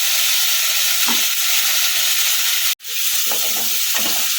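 Potato curry with a paste of red chilli and tomato fries in a pan with a loud, close sizzle, while a spatula scrapes and stirs in a few strokes; one brief cut breaks the sound midway.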